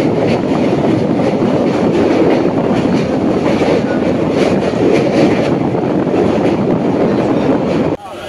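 Matara Express passenger train crossing the Hooghly Ghat bridge, heard from on board as a loud, steady rumble of wheels and rail clatter that continues unbroken before dropping off abruptly at the very end.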